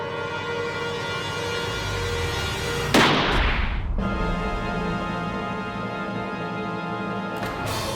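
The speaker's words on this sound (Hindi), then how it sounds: "गोली मार दो बत्ती बुझा के।" In a Hindi TV drama scene, a single loud gunshot cracks out over a sustained background music score, followed by a fainter burst near the end. No one speaks.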